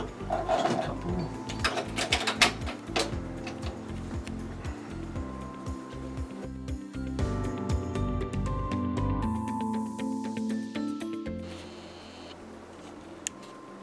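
A sewing machine runs in short, rapid bursts of stitching, stopping and starting as it works back and forth over a few back stitches, close and fairly quiet, with clicks and handling noises between runs.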